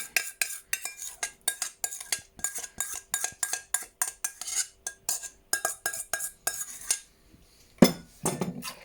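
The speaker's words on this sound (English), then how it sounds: "I'm just going to mix the marinade in" Marinade gets mixed into pork belly in a bowl: quick, rhythmic clinks and scrapes of a utensil against the bowl repeat for several seconds, pause briefly, then a couple of louder knocks follow, close and without talking.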